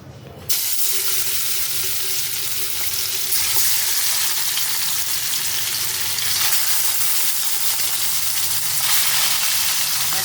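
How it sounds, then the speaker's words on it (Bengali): Fish drops into hot oil in a wok and bursts into a loud, continuous sizzle that holds steady and close throughout. "তেলটা গরম হয়ে গেছে এখন আমি এই কড়াইতে মাছগুলো দিয়ে দেবো"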